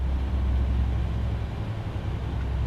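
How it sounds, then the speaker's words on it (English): A truck's engine brake in Euro Truck Simulator 2 gives a deep, steady, beefy low rumble, loud and continuous throughout with no talk over it. "the engine brake on this truck sounds about as beefy as some of the ATS ones"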